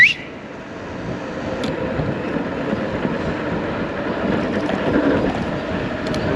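Strong wind buffeting a vlogging microphone outdoors, a continuous loud rumbling roar with gusts that rise and fall, opening with a brief sharp burst and no speech.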